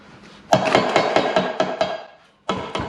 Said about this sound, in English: Plastic rubber hammer.